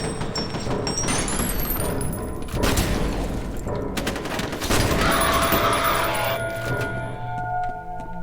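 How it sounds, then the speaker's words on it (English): Loud sustained gunfire crackles and booms in the shooter game F.E.A.R., with heavy bursts of shots, thuds and metallic mechanism sounds layered over a rising electronic whine. "Did you just panic so hard you started shooting the fucking wall?"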